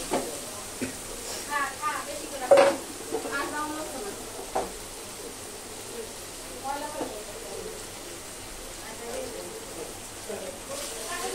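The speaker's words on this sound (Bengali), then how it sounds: "এখন দিব রসুন বাটা আর সামান্য পরিমাণ আদা বাটা দিয়ে দিব।" Garlic and ginger paste frying in a pan while a curry with rohu fish and taro is cooked, a soft steady sizzle with a few stirring scrapes and clinks, and a voice talking over it.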